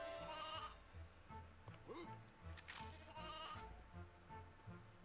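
Sheep bleating inside the Toy Story 2 video game, a few short wavering calls over steady game music and ambience, moderately loud.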